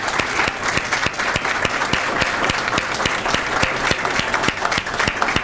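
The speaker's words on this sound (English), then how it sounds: "go ahead and help me give her a huge round of applause" Steady applause from a gathered crowd of teammates and friends celebrating a college-bound athlete's letter of intent signing, with sharp individual claps standing out over a dense, continuous wash of clapping throughout.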